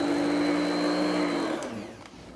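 An electric mixer runs steadily, loud and close, with a sustained whine while beating cake batter for a peach-bourbon upside-down cake, then winds down and stops partway through.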